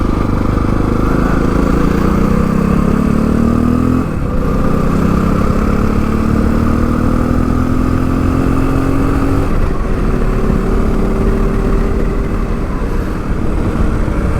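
Japanese dirt bike engine running steadily and loud, its pitch climbing in stretches and dropping back as gears change, about three shifts over the span, with no talk.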